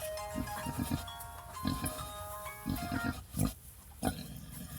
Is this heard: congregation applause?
no